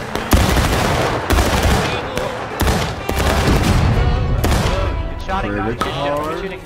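Musket volley fire in the video game War of Rights, a dense run of loud overlapping gunshots crackling on for several seconds, with shouted voices mixed in near the end.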